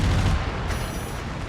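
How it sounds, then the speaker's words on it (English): An autocannon blasts in the MechWarrior 5 video game, a loud dense burst of booming shots at the start that tails off into a rumbling decay. "it's so fun to listen to that cannon just blast"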